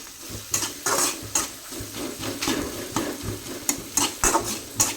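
A spoon scrapes and stirs through masala frying in a pan for ridge gourd curry, rhythmic close strokes over a steady sizzle.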